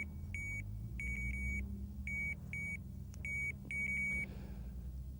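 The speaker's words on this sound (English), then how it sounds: "Now I'll turn the bite alarm off, because it can be annoying." An electronic fishing bite alarm on a pike angler's rod setup gives sharp, high beeps in short repeated bursts and clusters, heard over a low outdoor rumble.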